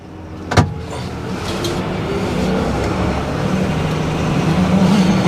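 A twist-and-go scooter engine revs up close by and pulls away, its steady motor drone building over several seconds after a brief knock at the start.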